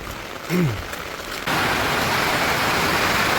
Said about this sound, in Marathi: पावसाने इतका कहर केला आहे भयानक कहर केला आहे